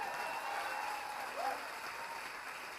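Audience applause at a live comedy or entertainment stage show, a steady wash of many hands clapping at moderate distance, fairly even throughout with a faint voice or tone drifting over it.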